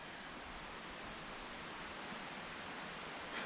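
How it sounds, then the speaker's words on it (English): The North Esk River near Penicuik, Midlothian flows as a steady, broadband rushing wash, constant and moderately distant, with no voices over it. "You hear the river in the background?"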